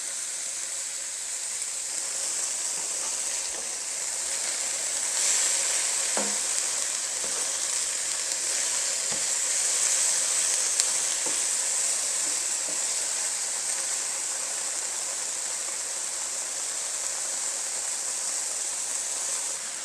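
Pork pieces searing and browning in a hot pan for enchiladas, a steady, close frying sizzle that hisses continuously with occasional faint pops, no voices.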